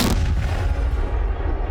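A cannon fires a cannonball at a pig carcass in a loud, close boom that opens the clip, then a long rumbling roar and debris noise that fills the rest without fading much.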